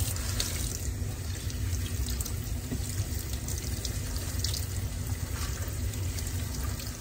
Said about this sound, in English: the first thing you want to do with Irish sea moss is you want to really rinse it very well